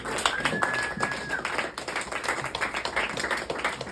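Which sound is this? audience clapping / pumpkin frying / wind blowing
audience clapping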